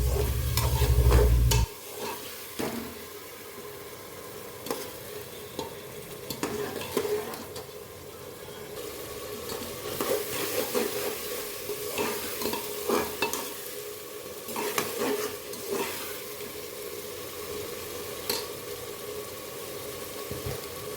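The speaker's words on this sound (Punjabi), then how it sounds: "ਇਸ ਨੂੰ ਵੀ ਆਪਾਂ 3 ਤੋਂ 4 ਮਿੰਟ ਲਈ ਚੰਗੀ ਤਰ੍ਹਾਂ ਭੁੰਨ ਲਵਾਂਗੇ ਤਾਂ ਜੋ ਸਾਡੇ ਮਟਰ ਕੱਚੇ ਨਾ ਰਹਿ ਜਾਣ" Green peas roasting in a pan for a peas pulao, with a steady sizzle under frequent spoon stirs and scrapes against the metal over about twenty seconds, after a short low rumble at the start.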